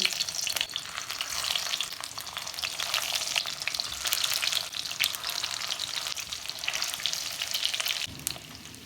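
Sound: stuffed bitter gourds frying in oil

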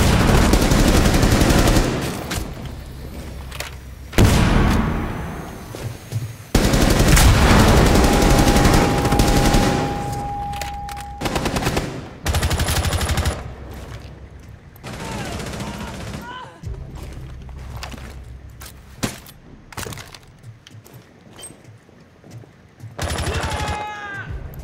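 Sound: gunfire in the video game Rainbow Six Siege

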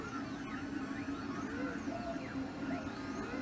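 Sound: Lulzbot TAS 6 fused filament 3D printers printing

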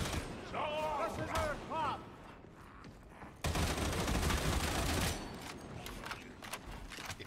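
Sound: Gonzalez machine gun firing in a video game

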